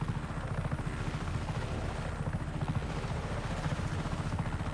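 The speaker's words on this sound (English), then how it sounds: "The helicopter? Oh my god, it's going super fast." A helicopter in the video game Just Cause 3 flies fast, its rotor producing a steady, throbbing low chop that pulses rhythmically and stays fairly quiet and continuous, with no talking.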